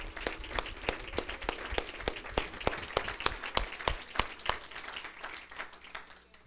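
A church conference audience claps in a steady, strongly accented rhythm, loud and unified at first and thinning slightly toward the end.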